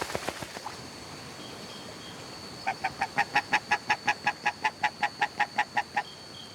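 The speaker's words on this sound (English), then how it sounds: "Muscovy ducks come here in their molting season." Muscovy ducks in molting season near a shore in Guyana give a rapid run of about fifteen regular, evenly spaced calls, loud and close, after a few scattered earlier notes.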